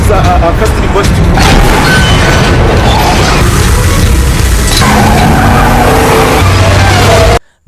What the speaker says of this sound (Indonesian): mobil jahil itu membuat mobil Ned oleng dan akhirnya membuat mobil Ned terjatuh